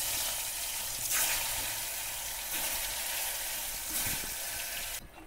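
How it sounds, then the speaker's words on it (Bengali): Pieces of pointed gourd (potol) fry in hot oil in a village-style Bengali kitchen, giving a continuous bright sizzle with brief surges as the pieces are stirred or turned. The sound is close and steady, with no voices. "এবার আমি পটল ভেজে নেব।"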